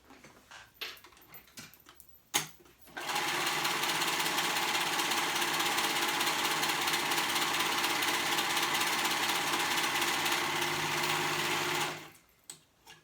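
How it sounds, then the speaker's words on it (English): After a few light handling knocks, a sewing machine runs in one steady, loud, continuous burst of about nine seconds as it stitches skirt pieces along a straight edge, then stops abruptly. "And we're gonna sew that straight edge together."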